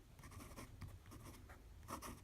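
A Pilot Elite 95S fountain pen with a springy 14K nib scratches across paper in short strokes, faint soft scraping taps in an irregular rhythm, heard up close and quiet.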